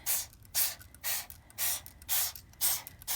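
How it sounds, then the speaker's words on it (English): A handheld spray bottle mists liquid onto paper in six quick, evenly spaced hissing bursts, close and fairly loud, with brief pauses between pumps. "You're just going to continue to spray it so that it looks like this and kind of lays flat."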